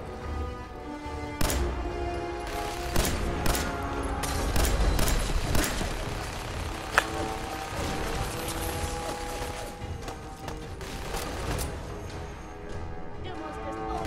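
Gunfire and grenade blasts from a Fallout 4 firefight crackle and thump in dense bursts over a low rumbling background, with sharper bangs standing out now and then while people talk over it.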